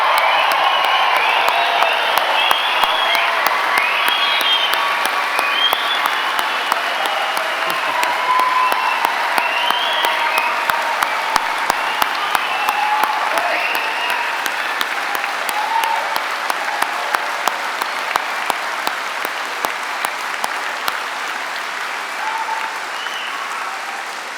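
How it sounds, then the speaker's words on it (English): A large standing crowd of graduates and guests gives a long, loud round of applause at a London degree ceremony, dense clapping with scattered cheers and whoops, gradually easing toward the end. "can we all have the loudest round of applause that we're capable of?"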